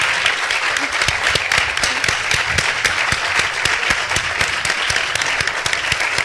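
Sustained applause from an audience at a tech conference's closing and awards ceremony, dense, steady clapping filling the room for several seconds at an even loudness.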